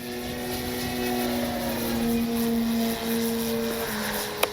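A Hangar 9 Valiant 20cc gas-powered RC plane drones steadily overhead through a stall turn, its engine pitch dipping and shifting as it slows and comes around, moderately loud with a faint tick near the end.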